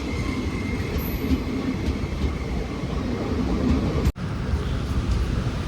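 The Alappuzha-Chennai superfast express at Wadakancheri station gives off a steady, loud rumble of rolling rail cars, continuous and close, with a brief dropout near the end.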